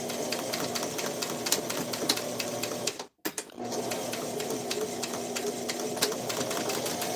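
A sewing machine runs steadily as it stitches fabric close by, giving a continuous mechanical whir and rapid needle clatter. The motor stops briefly near the middle, then starts again and runs on.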